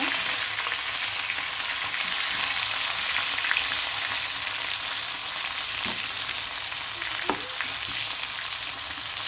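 Pieces of chicken fry in a pan with a constant, fairly loud sizzle, and a few faint knocks and scrapes of stirring come through the hiss.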